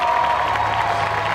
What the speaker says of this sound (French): Je vous demande d'applaudir encore une fois Kairi, s'il vous plaît.